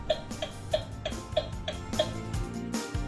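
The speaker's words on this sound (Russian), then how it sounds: "А если на стрелку, она замигает и послышится тиканье." A Taf Toys toy steering wheel gives a crisp, regular turn-signal tick, about three per second, close and fairly quiet, with faint background sound behind it.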